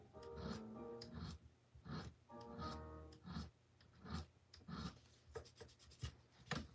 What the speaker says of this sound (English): when you use the 220 grit sandpaper to just kind of smooth out this spot